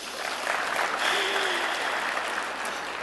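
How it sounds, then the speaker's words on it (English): An audience at a business presentation claps together in a sustained, even wash of applause, with a faint tonal murmur briefly audible beneath the clapping. "Clap your hands."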